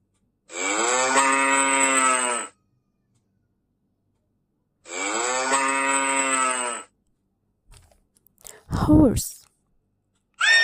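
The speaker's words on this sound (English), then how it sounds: "cow" Cow lowing in two long, steady moos with a clear pause between them, close and loud, followed by a brief unrelated sound at the end.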